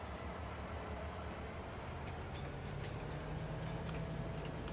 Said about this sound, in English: Not often that we get to take the train here in one of these tours